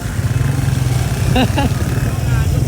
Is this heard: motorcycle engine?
yes